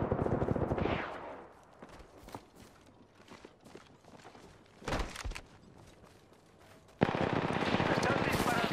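Apex Legends gunfire: bursts of rapid automatic shots open and close the stretch, with scattered single cracks and footsteps between them, loud and close, while a voice talks over parts of it.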